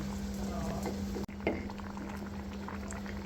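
Curry with fried eggs added boils steadily in a pot, a continuous close bubbling simmer with a faint hum underneath and a brief soft knock partway through.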